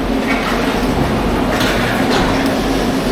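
Penang Hill funicular train at the base station, a loud steady rumbling and rolling hum with a few faint metallic clanks, close by and with no talking.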